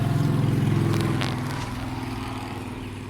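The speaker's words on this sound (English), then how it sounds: "I am by a somewhat busy road, so you might hear some cars" Traffic on a somewhat busy road beside a front yard in July, a steady low vehicle rumble that swells briefly then eases as a car passes, fairly close, with no talking.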